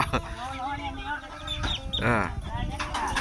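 Chickens clucking and squawking close by in a busy rural setting, with people talking over and around the calls.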